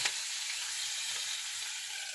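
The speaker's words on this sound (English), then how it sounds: "You can hear that guy sizzle." Fat and liver sizzle steadily in a hot pan, a dense, continuous crackling hiss that holds evenly throughout without pause.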